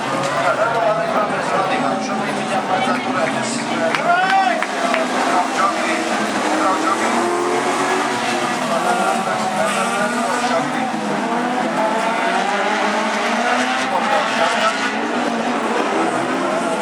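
Loud, continuous roar of rallycross car engines racing at Biķernieki, with tires squealing and voices talking over the din.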